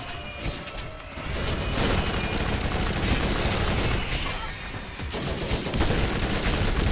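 Gunfire in the video game Borderlands rattles in dense, continuous bursts, loud and close, with crashes and impacts mixed through the barrage.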